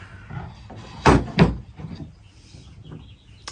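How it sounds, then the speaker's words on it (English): Two sharp, close wooden knocks as the lock is thrown in the door of an 1898 D.N. Schall & Co. Big Wheel slot machine, with softer handling clatter before and after. "I guess the next thing we'll do is throw the lock in the door"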